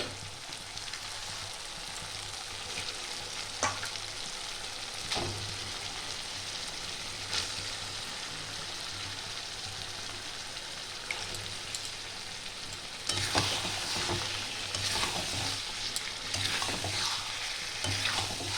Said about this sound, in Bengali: মশলাটা কষানো হয়ে গেছে, এবার দিয়ে দেবো চিকেনগুলো